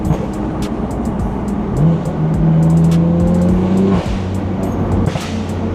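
A BMW M4 engine revs hard and holds high, with sharp crackling pops from the exhaust scattered through the drone.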